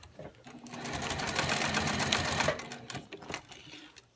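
Sewing machine stitching elastic for a fabric Christmas gift bow, running in a steady, close whirring burst for about two and a half seconds, then slowing into a few short stitches and stopping.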